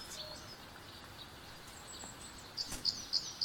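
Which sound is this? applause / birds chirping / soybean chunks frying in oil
birds chirping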